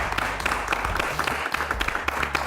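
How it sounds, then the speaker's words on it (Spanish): An audience claps warmly to welcome a singer onto a television show, a brief burst of moderately loud, scattered applause with some background murmur. "Quiero que recibamos con un fuerte aplauso"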